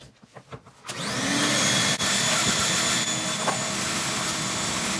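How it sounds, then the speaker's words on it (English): A vacuum cleaner starts after a few soft knocks and runs at a loud, steady whine while cleaning the interior of a 1968 VW Beetle garage find, close to the listener, with brief suction dips. "Time to vacuum. There's going to be noise."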